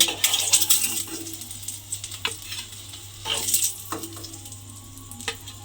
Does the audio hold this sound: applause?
no